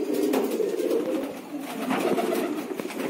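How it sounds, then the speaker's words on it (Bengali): Fancy pigeons in a Kolkata loft coo steadily in soft, overlapping low calls, close and moderately loud, with a faint rustling background and no talk. "এগুলো হচ্ছে গিয়ে খুব নিচে খেলা পায়রা"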